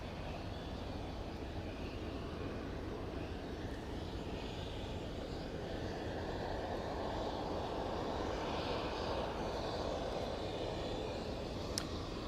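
A large airplane lands and taxis at Kelly Field in San Antonio, its jet engines producing a steady, broad roar that fills the air at a distance without letup.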